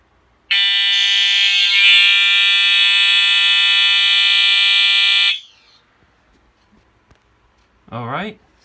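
A fire alarm on a buggy panel blares loudly and steadily for about five seconds during a magnet test of an ESL smoke detector, then cuts off; a brief chirp follows a few seconds later.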